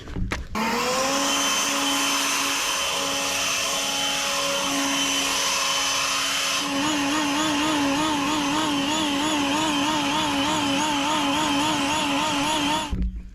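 Leaf blower blowing mulch dust off a bed into the grass, a loud continuous motor whine that starts abruptly, wavers in pitch midway, and cuts off near the end.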